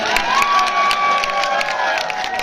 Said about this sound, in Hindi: इनका जोरदार तालियों से स्वागत।